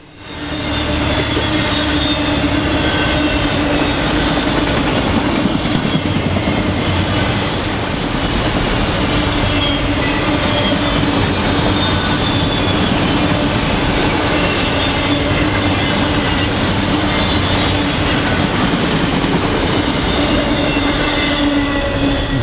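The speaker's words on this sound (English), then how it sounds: "it's been a while since I've seen CSX trains move like this" A long CSX freight train rumbles past steadily in Central Florida, wheels clattering and squealing on the rails, loud and continuous throughout.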